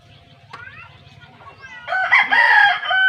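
A rooster crows loudly nearby after a quiet start with faint clucking, the call rising and holding toward the end.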